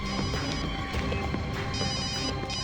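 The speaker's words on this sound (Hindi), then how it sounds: "सर घंटी बज रही है।" A mobile phone left behind in a car rings continuously, a bright repeating ringtone with a steady pulsing pattern, loud and alone without talk.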